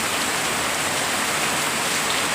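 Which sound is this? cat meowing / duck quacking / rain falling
rain falling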